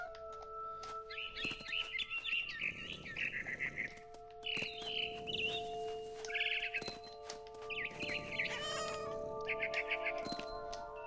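Cat meowing and yowling in the video game What Remains of Edith Finch, repeated close cries over bright chirping bird calls and a steady musical drone.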